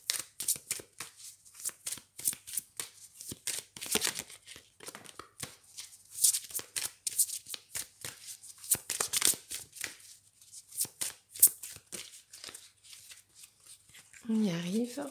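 Oracle Belline cards shuffled and drawn by hand, a long run of quick, crisp riffling and flicking bursts, close and fairly quiet, with a brief voice near the end.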